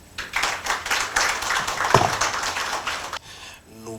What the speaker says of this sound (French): Nous pouvons encore applaudir le mot de la Banque mondiale